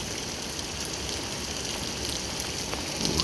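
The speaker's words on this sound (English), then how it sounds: "The harder the rain gets, the more aggressive the storm gets." Steady, dense rain pours throughout an early morning thunderstorm, the first of the season, as an even hiss with no clear thunderclap standing out.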